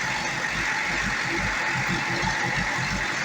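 A Chevrolet Corvette C6 engine idles close by with a steady, low, throbbing rumble and an even pulse throughout.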